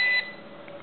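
A short electronic beep from a drone's remote controller after pairing and pulling the throttle all the way down: one brief, clear tone at the very start, then quiet background.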